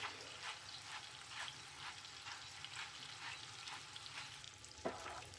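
Cheese sauce for homemade mac and cheese stirred in a pot, quiet rhythmic scraping strokes about twice a second over a low continuous simmer, with one slightly sharper knock near the end.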